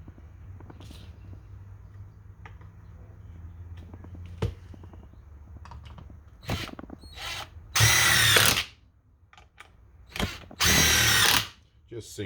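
Two short, loud bursts from a power drill boring holes in a wooden wheel crib, close by, with quieter workshop handling sounds and faint background noise between them.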